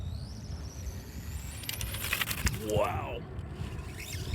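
A Team Saxo Racing GK-200 RC go-kart on a 3S battery runs at half throttle, its motor whine rising and falling and sweeping in pitch at moderate distance, with a voice exclaiming over it.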